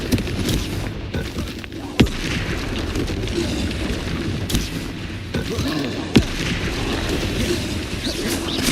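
Confringo explosive spell blasts in Hogwarts Legacy combat, a steady roar of battle noise punctuated by a few sharp, loud bursts, with other spell sounds and a voice faintly present.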